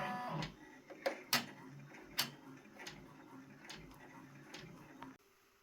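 A Brother PR1055X embroidery machine starts stitching on a sweatshirt sleeve, giving irregular close mechanical ticks and clacks at moderate volume before cutting off abruptly.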